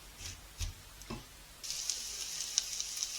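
Onions frying in olive oil in a pan over medium heat, giving a steady high sizzle that thickens midway through, with a few soft knocks and clinks early on.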